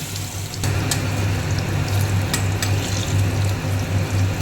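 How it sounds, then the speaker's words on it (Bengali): Bitter gourd fritters frying in oil give a steady bubbling sizzle with a low pulsing hum underneath and a few sharp clicks, close by, with no voices. "বড়াগুলো ভাজা হয়ে গেছে আমার"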